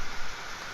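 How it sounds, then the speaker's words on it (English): Steady, close rain falling in The Deed video game, a broad even hiss with no other sounds for under a second. "As I slowly walk through the rain."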